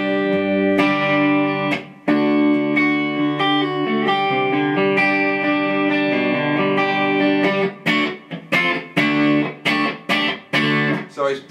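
Electric guitar through a tube amp with light breakup, ringing chords and melodic lines, ending in a run of choppy, rhythmic strums.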